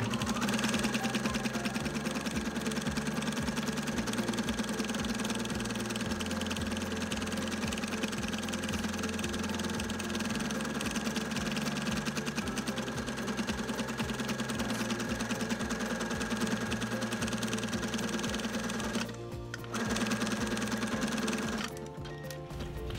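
A sewing machine runs a zigzag stitch at width 5 and length 2.5 around the perimeter of a fabric holiday stocking. It makes a steady, continuous whirring hum that stops briefly near the end.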